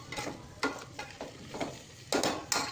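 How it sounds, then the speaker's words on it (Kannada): Tomato bath mixture frying in a pan, stirred with a spoon that scrapes and knocks in irregular strokes over a steady low sizzle, close and moderately loud. "ಫ್ರೈ ಆಗ್ತಾಯಿದೆ ಫ್ರೆಂಡ್ಸ್"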